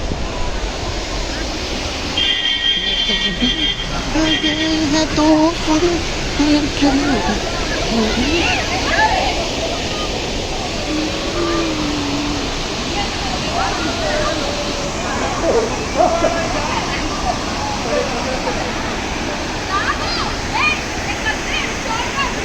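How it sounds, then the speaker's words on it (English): A waterfall near Chikmagalur in the hills roars steadily and loudly close by, a dense unbroken rush of falling water that fills the whole stretch, with people's voices talking faintly over it at times. "these are waterfalls we have here."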